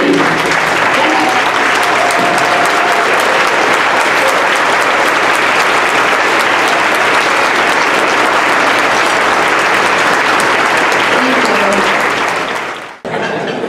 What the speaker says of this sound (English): if everyone could just give them a round of applause